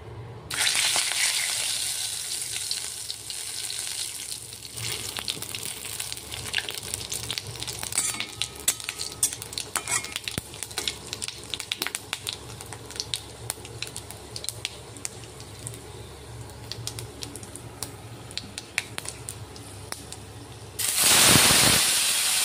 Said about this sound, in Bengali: এদিকে দেখো কড়া গরম হয়ে গেছে, তেল দিয়ে দিলাম। এখন আমি পাঁচ ফোড়নগুলো ছড়িয়ে দেব।